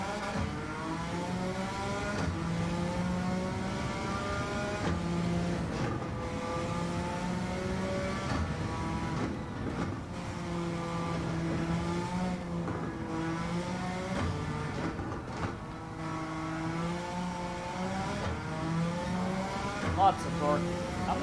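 A Suzuki Escudo race car's engine revs continuously in Gran Turismo 7 on the Nürburgring, rising and falling through gear changes with a steady, droning whine and occasional tire noise.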